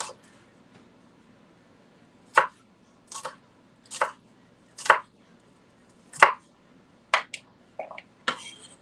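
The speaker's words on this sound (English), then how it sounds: "cutting these irregular pieces isn't very convenient" A knife chops food into irregular pieces on a board during braised short ribs and potato cooking, giving about ten sharp, spaced chops heard close over a quiet room background with no talk.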